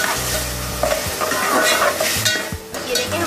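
Finely chopped tomatoes fry with onions in a pan of masala for kaleji. The sizzle is loud and close, with spatula stirring scrapes layered over a continuous hiss.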